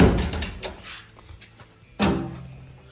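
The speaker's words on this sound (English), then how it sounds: "And if we open the door" The door of an LS turbo-powered Mercedes drag car under construction gives a solid clunk at the start, then some faint rattling, then a second heavy thunk. Both knocks are close and loud, with no talking.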